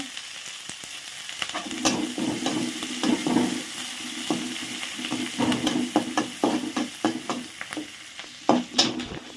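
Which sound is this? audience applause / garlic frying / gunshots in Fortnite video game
garlic frying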